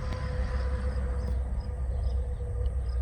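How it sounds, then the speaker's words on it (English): A distant train rumbles in a low, steady drone with a faint tonal hum, continuous and far off. "You can see the train in the background."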